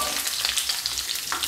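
Chili peppers sizzle and crackle steadily in a frying pan, a dense close-up hiss with small pops throughout and no talking.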